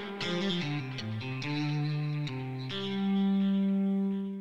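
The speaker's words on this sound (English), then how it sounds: "This is a lead guitar line that's going to be playing just underneath the vocal throughout the entirety of the song" A distorted lead electric guitar line, coloured with chorus and echo effects, plays a short sustained melodic phrase of bent and held notes, sitting up front in a song mix meant for vocals.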